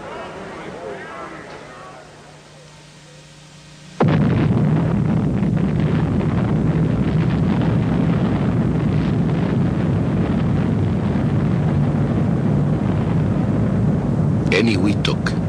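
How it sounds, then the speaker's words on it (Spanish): The first hydrogen bomb test explosion at Eniwetok in 1952: after a quiet stretch, a sudden massive roar begins and stays loud and steady, a deep rumbling blast that fills the rest of the clip. "La prueba de la primera bomba de hidrógeno."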